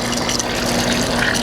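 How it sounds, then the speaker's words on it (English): Water rinsing over bleached white deer skulls, a continuous close splashing gush with no pauses across the short stretch. "We're just gonna give them just a quick rinse, just to make sure."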